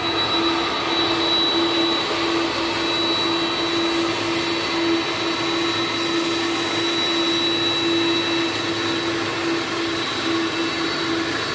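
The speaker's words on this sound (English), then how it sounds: "And now you see that plane pulling up." A 30-year-old Boeing Air Force One jet taxis on the tarmac at its Florida arrival, giving a loud, steady engine roar with a constant high whine that holds unbroken throughout, with no voices.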